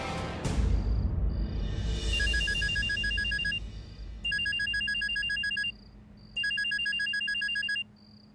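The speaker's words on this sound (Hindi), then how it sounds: "वो पतिदेव का फोन आ रहा है" A phone rings in repeated electronic bursts, two clear rounds of a melodic ringtone after a brief noisy start, fairly close and loud.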